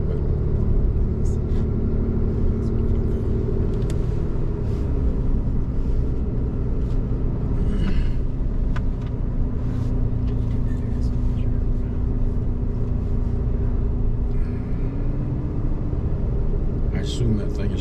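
Pickup truck driving on a road in Grand Teton National Park, heard from inside as a steady low engine and road rumble under people talking.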